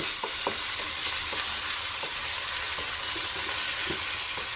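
Chicken sautéing in a pan for chicken tinola, a continuous loud sizzle with occasional soft stirring knocks, close and steady throughout, no talk.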